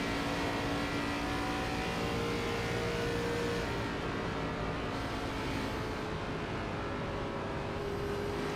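An ARCA Rebels Series race car at Old Atlanta, its engine droning steadily from onboard as the driver feeds the throttle gently, a continuous loud buzz with slight shifts in pitch.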